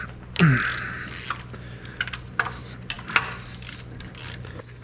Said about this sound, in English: go ahead and bust these bolts loose here